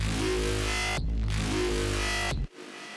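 Heavily processed, distorted synth bass with a screech-like edge plays two long, dense, buzzing sustained notes that cut off abruptly, loud and unaccompanied, for an electronic track.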